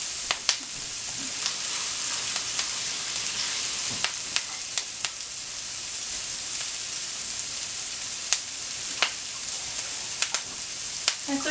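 Onions caramelizing in a pan for roasted creamy tomato soup, giving a steady, even sizzle that fills the whole stretch, with a few sharp crackles and pops scattered through it and no talking.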